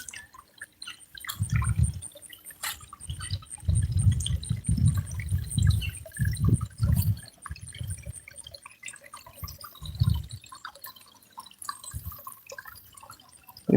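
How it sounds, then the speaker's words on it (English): A small waterfall in a creek trickles and splashes in irregular bursts, close and fairly quiet, with soft gaps between the gushes. "The little waterfall there."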